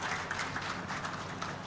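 Dense, steady applause from a conference audience at a hydropower expo in Nepal, welcoming a presenter to the stage; continuous clapping without a break and no voices over it.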